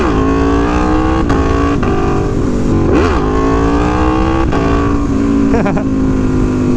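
An Aprilia Tuono V4 Factory motorcycle accelerates hard into wheelies, its loud, close engine note climbing through several rising revs with sharp shifts and blips between pulls.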